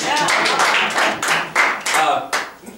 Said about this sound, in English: Let's give a round of applause here.